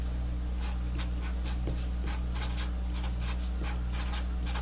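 A marker or chalk scratches across a board during a physics lecture, making a series of soft, dry strokes over a steady low hum, with no speech.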